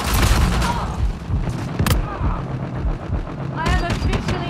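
Gunfire in the video game Uncharted 4, loud repeated shots and bursts in a busy combat mix with a sharp crack near the middle and clutter of game sounds throughout.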